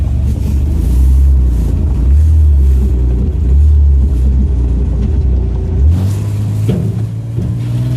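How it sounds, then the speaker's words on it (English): A truck engine rumbles loudly and steadily as the vehicle turns around, its low drone shifting in pitch partway through as it revs, with no one talking. "we actually don't have insurance on this truck right now, so we're going to turn around"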